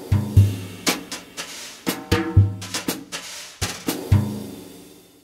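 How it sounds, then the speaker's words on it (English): A sampled drum kit loaded in Native Instruments Battery plays back from a Logic MIDI region, with sharp kick, snare and cymbal hits in an uneven groove over about five seconds. No one speaks. "Here's the sound of the kit with MIDI region playback from Logic."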